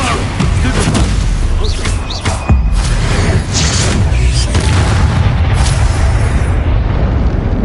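The Expulso blasting spell goes off in the Hogwarts Legacy video game: loud, rumbling booms and crashing debris roll continuously for several seconds with heavy low-end weight.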